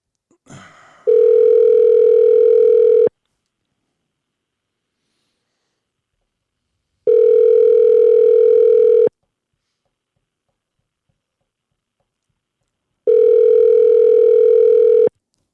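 Outgoing phone call ringback tone while calling a friend: three steady two-second tones spaced about four seconds apart, clear and alone with silence between rings.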